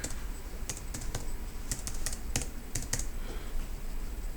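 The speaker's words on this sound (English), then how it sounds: "So you're going to type your password there." Someone types a MySQL password on a computer keyboard: a close, irregular series of crisp key clicks over a steady hum, with no voices.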